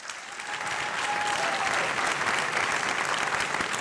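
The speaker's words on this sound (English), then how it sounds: "Round of applause for Wei Zheng." An awards ceremony audience claps for a teaching excellence medal recipient, a dense, even burst of applause that builds and holds steady throughout, with no speech on top.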